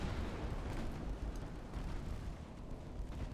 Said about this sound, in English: Duchala, you may fire your torpedo.